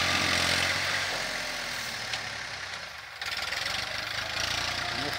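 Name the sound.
Massey Ferguson 1035 DI tractor engine pulling a tiller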